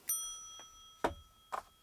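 Homemade wooden stomp box foot drum, a porch board built for about ten dollars, tapped three times at slow, uneven intervals, each hit a short woody thump with a brief ringing tail, fairly quiet and alone.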